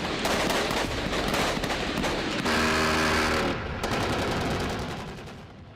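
Heavy battlefield gunfire in Ukraine's fight with Russia, dense automatic bursts and rapid shots rattling continuously and loud, easing slightly toward the end.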